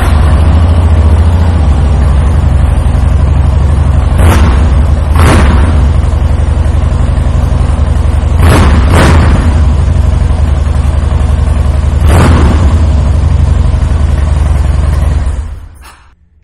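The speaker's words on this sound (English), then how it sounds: "I am going to take the opportunity right now to fire this Breakout up so you can hear those Vance and Hines slip-ons." A 2014 Harley-Davidson Softail Breakout fitted with Vance and Hines slip-on exhausts idles loudly and steadily up close, with several sharp throttle blips blasting out before the engine cuts off at the end.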